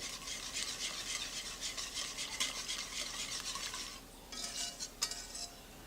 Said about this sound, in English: make sure y'all constantly stirring this because it will go to the bottom